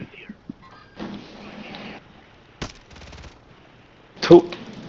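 Bursts of gunfire from the Warzone 3 video game: a few short rattling volleys and sharp single shots spread across the moment, fairly quiet in the mix, with a louder crack near the end.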